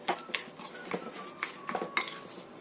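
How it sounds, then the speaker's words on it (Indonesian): Repeated clinks and scrapes of a utensil against a bowl, irregular stirring strokes mixing in onion and garlic close by, with no voices. "Aduk rata."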